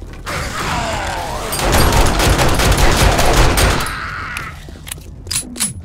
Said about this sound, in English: I'm wasting a lot of bullets.